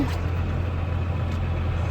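A tractor engine idling on a farm, a steady low mechanical rumble with a constant hum, close and even in level, with no talking over it.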